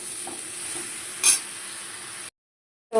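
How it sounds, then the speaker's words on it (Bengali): Gourd leaves and stems with slit green chillies being stirred in a hot pan, a steady close sizzle with a sharp scrape around the middle, then a brief silence and a fresh burst. "তো সবজিগুলো দিয়ে ভালো করে নাড়াবো একটু।"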